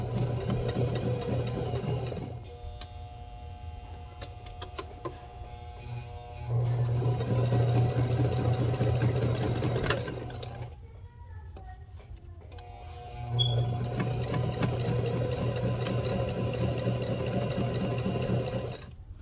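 A home sewing machine stitching slowly through fabric, its steady motor hum and rapid needle clatter running in three stretches with quieter gaps between them, close by.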